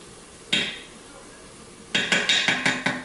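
A utensil stirs garlic into sautéed vegetables in a pan, starting with a single metallic clink and then a quick run of rhythmic scraping knocks against the pan over a constant kitchen hiss, with nobody speaking.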